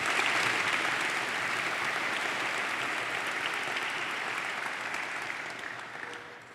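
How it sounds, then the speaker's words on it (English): An audience at an award ceremony gives sustained applause, a dense even clapping that holds steady for several seconds and then slowly fades, with no speech over it. "we owe this institution a huge, huge round of applause"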